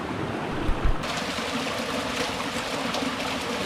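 A waterfall deep in a Bali canyon, a steady broadband rush of falling water heard close and fairly loud, with a couple of brief thuds early on and no talking.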